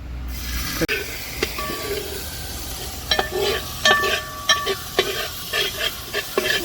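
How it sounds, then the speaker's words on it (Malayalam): Finely chopped onions sizzle and are stirred in oil in a pan for a squid masala, soft frying hiss broken by repeated scraping spoon strokes and clinks at close range. "ഉള്ളി നല്ല പേസ്റ്റ് പോലെ വഴറ്റി വരണം കേട്ടോ നന്നാക്കി ഇളക്കി എടുക്കണം"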